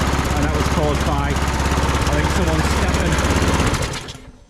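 A Briggs & Stratton Quantum 35 four-stroke engine on an Atco 16s lawnmower, running with a cracked inlet manifold, drones loud and close with a steady rapid pulse, then cuts out and winds down near the end; a voice speaks over it.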